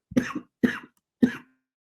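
Three short, dry coughs in quick succession, close and fairly quiet, with no talking.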